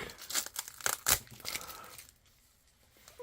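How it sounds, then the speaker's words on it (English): Crinkling and tearing of a plastic pack holding vintage Montblanc and Pelikan 400 pens as it is cut open, a few sharp rustling bursts close up that fade into near silence. "So I think I will make a cut right over here, guys, of the pack."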